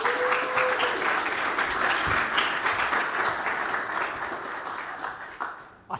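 Audience at a live conference event applauds a speaker being welcomed to the stage, a dense, steady wash of clapping that holds for several seconds before tapering off near the end.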